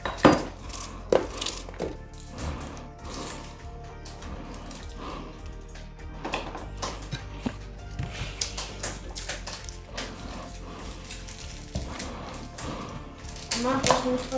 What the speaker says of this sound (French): on coupe grossièrement